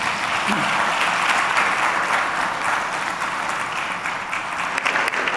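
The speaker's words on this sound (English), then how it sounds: "How about another round of applause?" Sustained, even applause from a large business-summit audience at the Ghana CEO Summit, loud and continuous with a faint crowd murmur underneath.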